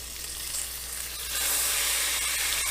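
Jamaican-style oxtail pieces sizzle loudly in a hot pan, the frying hiss swelling as they are flipped, with a few sharp clinks near the end and no talking.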